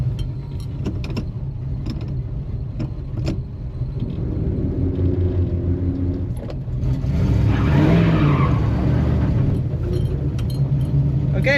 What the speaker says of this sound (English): Okay, it does a burnout.